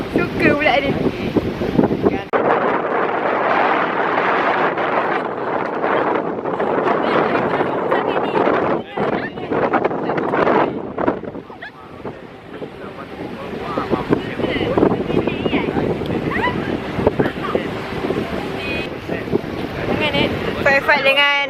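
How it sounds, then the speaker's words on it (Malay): Strong wind buffets the microphone aboard a private yacht sailing at sea off Langkawi, with loud, continuous roaring gusts and water noise. People talk throughout. "So windy. Tak tahu korang akan dengar ke tak, tapi it's so windy."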